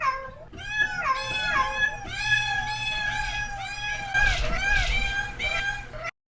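Cats meow repeatedly at close range, a string of loud, drawn-out, rising and falling meows, some overlapping, continuing for several seconds.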